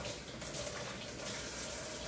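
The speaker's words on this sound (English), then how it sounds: "run some water in that pan" Tap water pouring steadily into a cake pan, a constant close rushing splash with no breaks and no voices.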